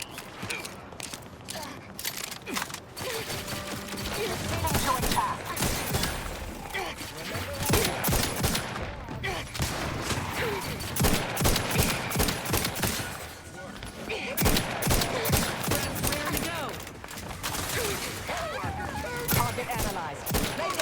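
Dense rapid gunfire and bursts of automatic weapons fill a firefight in the sci-fi shooter The Outer Worlds, loud and continuous with short pauses, mixed with game voices calling out orders.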